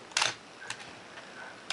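A Minolta SRT film camera fires its shutter at 1/1000th of a second, giving one sharp close mechanical click followed by a few fainter ticks in a quiet room.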